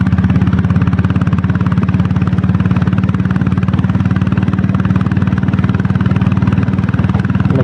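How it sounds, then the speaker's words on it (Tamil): A 7 HP self-start diesel Royal Enfield Bullet engine idling: a loud, close, steady low thumping pulse with even rapid beats and a clattery edge, running alone without talk. "இந்த பீட் தான் ஃப்ரெண்ட்ஸ், 7 HP கொண்டான பீட் தான் ஹைலைட்டு."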